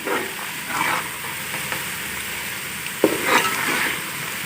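Onions fry and sizzle in a pan for beef pulao, a steady hiss broken by a few stirring scrapes and a sharp clink near the end, with no talking.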